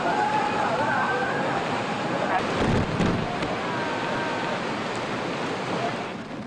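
Strong typhoon wind from Typhoon Molave gusts in Hong Kong, a steady loud roar of wind buffeting the microphone throughout, surging briefly in the middle before easing slightly at the end.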